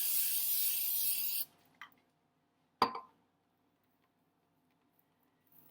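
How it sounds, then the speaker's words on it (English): A close, steady burst of aerosol oil spray into a small pan lasting over a second, then a faint clink and a sharp knock in near silence. "So I'm going to spray it with some oil."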